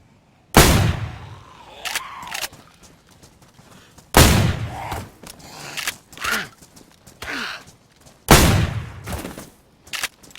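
Three heavy shotgun blasts in DayZ, spaced about four seconds apart, each loud, close and booming, with mechanical pump or reload clatter and faint shuffling between shots.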